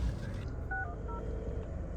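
A phone number being dialed, with a short run of DTMF keypad tones, two or three brief beeps heard faintly over a low rumbling car interior with no speech.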